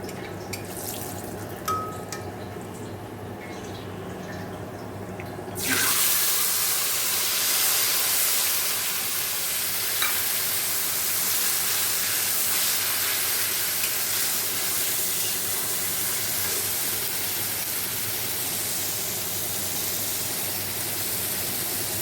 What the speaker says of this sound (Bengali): গোটা গরম মশলা ফোড়ন দিয়ে দিয়েছি